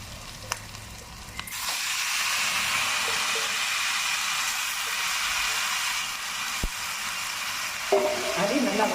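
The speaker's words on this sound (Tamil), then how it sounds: "வந்துங்க வரமிளகா போடுதுங்க. அதை போட்டு நல்லா வணக்கிட்டுங்க" Dried red chillies sizzle in a hot pan, a steady frying hiss that continues for several seconds, with clinks and stirring near the end.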